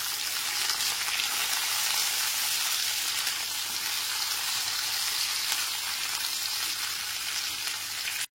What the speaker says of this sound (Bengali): এবার আলুর সাথে ফুলকপিটা ভালো করে ভেজে নিতে হবে।